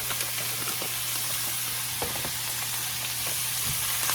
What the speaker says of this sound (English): I'm going to stir that around and let that heat through.